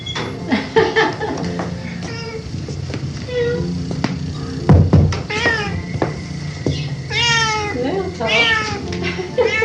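Several cats meow and caterwaul repeatedly in a room, close and loud, with rising and falling cries overlapping and people talking and laughing around them.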